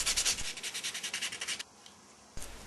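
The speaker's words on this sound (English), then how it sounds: "we give a final hand sand before we do the finishing off." Hand sanding of a wooden heart-shaped scroll saw box: rapid back-and-forth rubbing strokes, close and rhythmic, then a pause and a single further stroke near the end.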